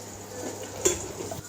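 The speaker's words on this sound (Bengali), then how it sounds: "এদিকে আলু পেঁয়াজ ভাজা হচ্ছে" Potatoes and onions frying in a pan give a faint, steady sizzle, broken once by a sharp metallic clink of a utensil against the pan.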